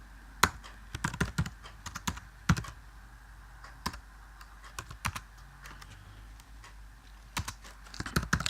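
Code being typed on a computer keyboard, with scattered crisp key clicks in short bursts and pauses, close and fairly quiet against a soft steady hum.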